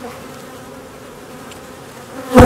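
An aggressive honeybee colony buzzes at the hive, a steady dense drone close by, ending in a brief loud rustle or knock.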